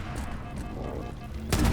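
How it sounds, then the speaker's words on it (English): Pistol fire in a Halo remake video game, a burst of loud, close shots at the very end of the stretch following a steady low game-ambience hum, no talking. "Shoot the hunter with the pistol in the back."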